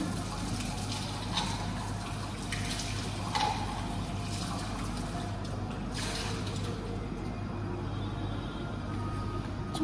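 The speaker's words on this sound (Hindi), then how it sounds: "धुल लेती हूँ." Tap water runs steadily into a sink while a yellow mug is rinsed, in a Jaipur stay, a continuous close stream with occasional splashes and clinks breaking through.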